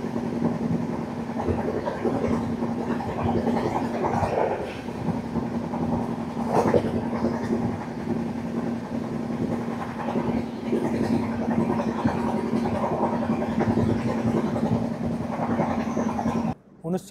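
The Himgiri Express, an Indian passenger train on the Howrah to Jammu Tawi route, rumbling steadily along the rails from inside a coach with a constant low drone and faint clatter.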